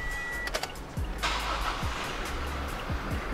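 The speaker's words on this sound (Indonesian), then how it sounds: "tinggal kita nyalakan mobilnya." A 2022 Toyota Innova's engine catches and starts, a sudden broad whooshing rumble that swells after a short quiet lead-in and then holds as a steady low running hum.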